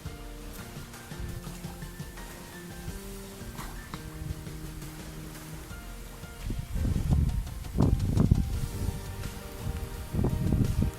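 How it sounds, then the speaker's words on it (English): Wind blowing across an open bee farm, starting as a soft steady rush and then swelling into loud, buffeting gusts against the microphone in the second half, with no talk. "It's so windy here."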